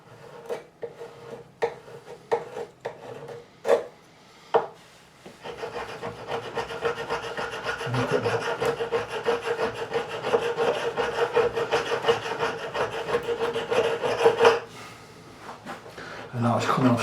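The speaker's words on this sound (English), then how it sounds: "let me give us a scrape" A tool scrapes wood on a Warwick Corvette bass neck to free the fingerboard, starting as a series of separate scratches and then turning into a long, continuous rasping stroke at close range, with someone talking over it.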